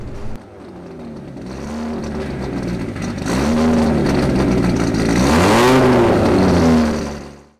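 An old Audi Quattro rally car races past on the Goodwood track, its engine revving up and shifting pitch as it nears and pulls away, loud and close, then fades sharply at the end.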